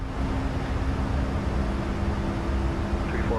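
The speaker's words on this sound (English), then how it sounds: "I think we're missing it because the plane itself is so freaking noisy." Boeing 737 MAX 8 engines in Microsoft Flight Simulator 2024 drone as a steady, loud broadband roar with a faint constant hum, heard alone throughout the cruise.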